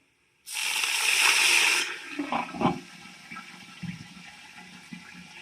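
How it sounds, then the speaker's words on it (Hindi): Water hits frying onions in a pot for a pulao, setting off a loud, sudden hiss of sizzling steam that settles after about a second and a half into softer bubbling and crackling. "अब इसके अंदर थोड़ा सा पानी ऐड करेंगे।"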